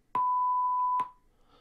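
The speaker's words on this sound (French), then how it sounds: "Parler après le bip sonore, puis appuyer sur OK pour enregistrer." A VoxiOne voice recorder gives a single clear electronic beep before recording, a steady pure tone lasting just under a second, framed by soft clicks at its start and end, then near silence.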